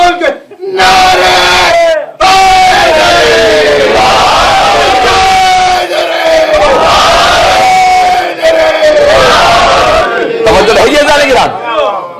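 A crowd chants slogans together in loud, surging unison with raised voices, repeated call-like phrases rising and falling across the stretch with brief pauses between bursts.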